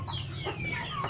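Cobb 500 breeder chickens cluck softly and steadily in a poultry house, with overlapping low calls over a constant background hum.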